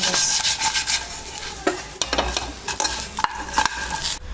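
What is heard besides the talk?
tossing plantain chips with seasoning and cumin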